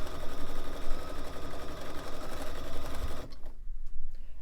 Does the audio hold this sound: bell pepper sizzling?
no